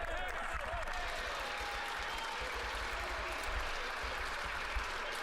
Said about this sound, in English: Yes, liberals, clap as loud as you can to make yourself sound like more than you are